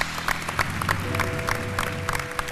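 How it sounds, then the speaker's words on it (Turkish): A studio audience claps for a guest named Gündüz at the close of a Turkish talk show, a steady patter of hands running throughout, with a low music-like tone sustained underneath. "Gündüz abicim bir alkış daha Gündüz abiye"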